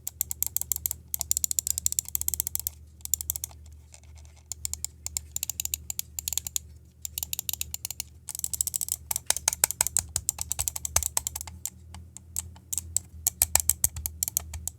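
Rapid clicking from a GamePro Asgard gaming mouse fitted with Huano switches, sharp dense bursts of close, crisp clicks in quick uneven runs over a low steady hum, with no talk.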